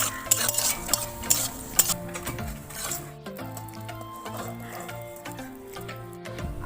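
Peanuts being lightly fried in a pan with panch phoron, stirred with a utensil, giving sharp scraping clatters early on, then a softer sizzle with occasional metallic scrapes, close by and with no talking.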